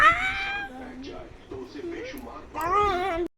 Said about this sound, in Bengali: আমি বিড়াল ছানা আও বিড়াল ছানা